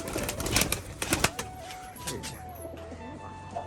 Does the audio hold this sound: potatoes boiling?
no